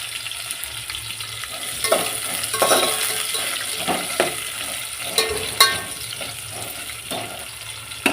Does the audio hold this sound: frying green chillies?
yes